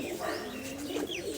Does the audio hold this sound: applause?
no